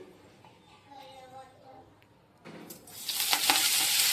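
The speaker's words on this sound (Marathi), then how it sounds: "ही मेथी आता आपल्याला एक मिनटं कढईत परतून घ्यायची आहे" Fenugreek leaves hit hot oil in a wok and sizzle, starting quietly and swelling into loud, steady frying hiss over the last couple of seconds, after a quieter stretch of faint background sound.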